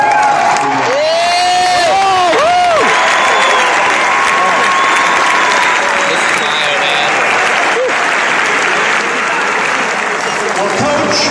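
Crowd applause and cheering for the coaching staff's wives at a 2012 Ohio State perfect-season celebration, loud and sustained through the whole stretch, with whoops and shouts mixed in and brief voices near the start.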